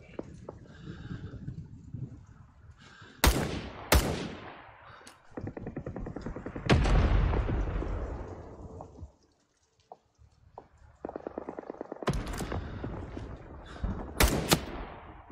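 Artillery fire support strike in the Vietnam War video game Rising Storm 2 Vietnam, with several loud, close explosions crashing in bursts, one long rumbling blast in the middle, and sharp gunfire cracks between them.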